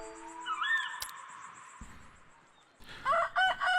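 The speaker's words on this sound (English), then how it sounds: "Cock-a-doodle-doo." A rooster crows in a cozy trash-goblin video game, with drawn-out cock-a-doodle-doo calls standing out clearly and close, followed by a bright burst of further crowing near the end.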